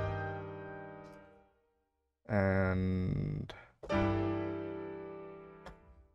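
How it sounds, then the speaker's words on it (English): Sustained major chords in an Elden Ring-inspired orchestral style step upward chromatically by semitones, each chord ringing out and decaying before the next bright swell, with a single spoken word near the start. "it has chromatic major chords that it does"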